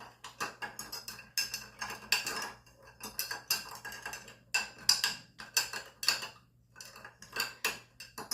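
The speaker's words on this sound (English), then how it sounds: "I'm going to stir it." Ice cubes clinking and rattling against a glass as a classic martini is stirred, a steady run of close, bright knocks in irregular bursts with brief pauses between them.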